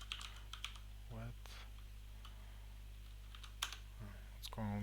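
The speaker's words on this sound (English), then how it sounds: "What's going on with my typing today?" Typing on a computer keyboard during a C# WPF coding session, scattered clusters of key clicks over a constant low electrical hum, with brief bits of voice.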